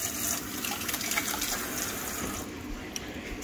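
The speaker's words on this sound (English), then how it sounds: "we're going to throw some water on them." Water is poured over a batch of freshly picked dandelion flowers being prepared for frying, a steady close splashing and gushing like a running tap that eases slightly toward the end, with no talking.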